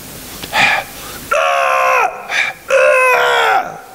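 A voice imitates people yelling and straining at the gym, a few loud drawn-out shouts and groans, the longer cries bending downward in pitch, with brief pauses between them.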